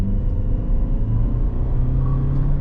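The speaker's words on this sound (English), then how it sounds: "So as soon as you've kind of floor a little bit, you're already accelerating." A 2026 Toyota RAV4 XLE Premium hybrid with an eCVT accelerates in sport mode, heard from inside as a loud, steady low engine and road rumble with no speech.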